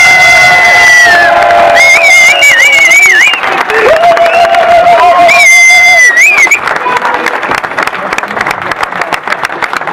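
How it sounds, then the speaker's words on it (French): Crowd at the finish of a stage of the Triptyque ardennais cycling race in Trooz, cheering, whooping and applauding loudly, with high shouts and whistles over steady clapping that thins toward the end. "Je vous demanderai d'applaudir Loïc Vigen."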